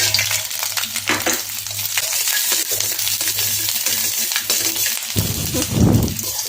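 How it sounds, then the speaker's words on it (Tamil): Ginger and garlic fry in oil for a Tamil pirandai thuvaiyal, a close, busy sizzle with stirring scrapes, ending in a louder clatter as the pan is worked; no speech. "இப்போ இஞ்சும் பூண்டும் சேர்த்து வறுத்துக்கலாங்க."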